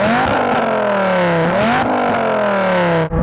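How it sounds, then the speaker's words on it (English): A Dodge Viper V10 revs hard and close in a drag-race setting, its pitch climbing and dropping in repeated swells before one final rise and sharp cut-off. "Adam, rev up your Viper."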